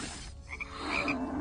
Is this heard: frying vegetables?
no